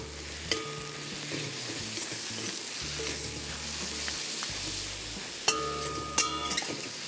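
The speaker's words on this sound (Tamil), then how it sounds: "இந்த ஸ்டேஜில் நம்ம இங்கே வறுத்து வச்சுருக்கிற இந்த பாவக்காய் அதை ஆட் பண்ணிவிட்டு இதை எல்லாம் ஒன்று சேர மிக்ஸ் பண்ணுறோம்." Fried bitter gourd is mixed into a masala gravy in a kadai over the stove, a steady sizzle broken by a few sharp clinks and scrapes of a spoon on the metal pan, close up with no talking.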